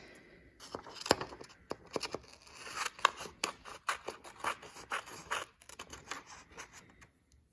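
Scissors snip through paper to cut out pattern pieces for a paper character craft, a quick run of crisp, close cuts and rustling paper that taper off near the end.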